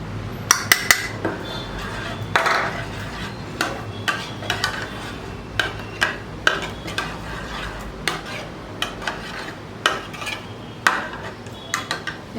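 A spoon stirs buttermilk and pepper powder in a bowl as chicken popcorn is mixed, scraping and clinking against the sides in a steady repeated rhythm, close and fairly loud over a low background hum.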